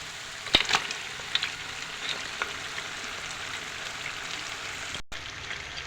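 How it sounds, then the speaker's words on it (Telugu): Cooked mutton sizzles steadily in hot masala for a biryani, with a few sharp scraping clicks of stirring near the start; a continuous close frying hiss with no speech. "ఈ మటన్ అన్ని మసాలాల్లో వేసేస్తున్నాను. ఇది బాగా కలుపుదాం."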